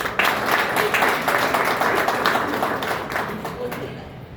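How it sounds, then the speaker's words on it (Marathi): An audience at a Women's Day event in a law college breaks into spontaneous applause, dense clapping that fills the room and fades toward the end, with some voices mixed in. "आता तुम्ही टाळ्या वाजवल्या, उत्स्फूर्तपणे वाजवल्या"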